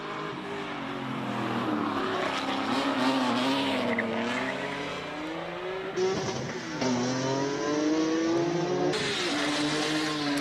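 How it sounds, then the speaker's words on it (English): A rear-wheel-drive BMW E46 M3 launches up a hill climb course in Cape Town, its engine revving hard through rising gear pulls with tyre noise, heard at a distance over a steady outdoor din. "You're watching Faisal Jacobs launch the BMW E46 M3."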